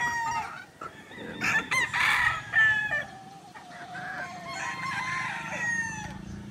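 A bulik gamecock rooster crows loudly nearby, with other fowl clucking and calling around it in a farm yard.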